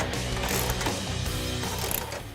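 Ratchet tightening a bolt on a 2013-2018 Ford Focus ST suspension while an air suspension kit goes in, a rapid run of close metallic clicks with no speech.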